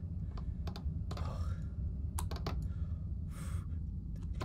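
Computer keyboard keys pressed, including the Shift key, while playing a horror game at a desk: scattered, quiet clicks and taps in irregular bursts, some clustered in quick pairs, over a low background hum.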